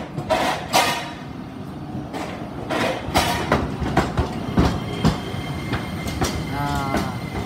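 A passenger train in Ehime runs along the rails, with a loud continuous rumble and rhythmic clickety-clack wheel beats recurring throughout, close and heard from on board.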